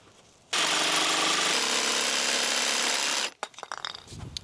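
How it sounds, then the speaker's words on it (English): A chop saw cuts through wood nearby with a loud, steady whining roar lasting about three seconds, then winds down into scattered clunks and handling noises. "All right, we got the chop saw out here."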